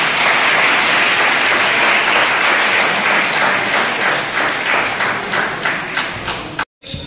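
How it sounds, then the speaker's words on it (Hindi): An audience at a Hindi promotion event at Asansol Club breaks into loud, sustained applause welcoming a young singer, dense clapping that fades toward the end before a brief cut. "एक बार गगन भेदी ताली बजाकर स्वागत करें"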